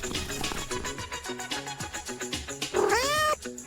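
A cat meows over background music, short repeated cries and then a louder drawn-out wavering meow near the end, close and clear.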